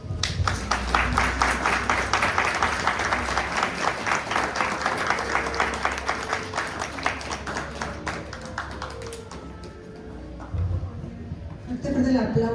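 Audience applause at a conference marking the 150th anniversary of a fire at the Casa Museo Gonzalo Carrasco in Otumba: dense, sustained clapping from a crowd for about nine seconds, then fading, with brief voices and scattered claps near the end.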